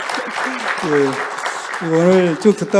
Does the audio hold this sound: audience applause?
yes